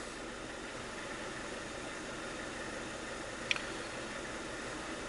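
An '03 Mazda Protege engine idles rough with a misfire, a steady low mechanical drone with no clear rhythm and one brief sharp tick partway through, heard alone without voices.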